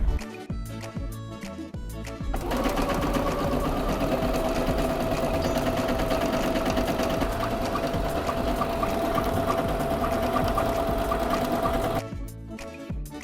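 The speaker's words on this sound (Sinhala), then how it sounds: "කපාගත් මේ කෑල්ලේ සික්සැක් මැෂින් එකෙන් සික්සැක් ඩිසයින්ස් මහගන්න" A zigzag sewing machine stitches decorative designs along a 35 by 8 centimetre fabric strip for a lunch bag. Quieter mechanical ticking gives way to a loud, continuous, close whir lasting about ten seconds before easing off.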